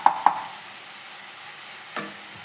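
A spoon stirs a sweet coconut mixture frying in a pan, giving two quick scraping clicks near the start and another about two seconds later over a faint, steady sizzle.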